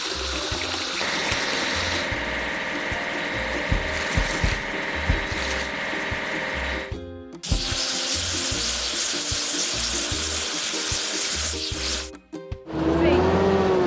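Water spraying to wash in a construction video game, a continuous loud hiss layered over rhythmic game music, cutting out briefly twice before a final chime.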